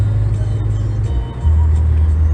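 A car cruises along a freeway after leaving a dirt road, with a loud steady engine drone and road rumble that shifts pitch briefly midway.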